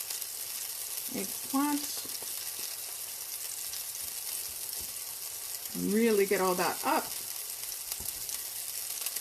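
Eggplant slices in a parmesan and almond meal coating fry in a pan, giving a steady low sizzle under brief bursts of nearby talk.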